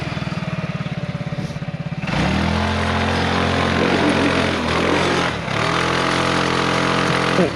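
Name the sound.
ATV engine struggling in low gear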